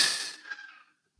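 A firecracker bursts at night during Eid celebrations: one sharp, fairly distant bang whose crackling, hissing tail fades away over about a second into silence.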